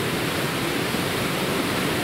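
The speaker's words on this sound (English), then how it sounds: "So now you can hear the roar of the river." Flooding river in heavy rain in the Czech Republic, water spilling over a normally dry cycle path. A steady, dense roar that stays loud and unbroken throughout, with no talking.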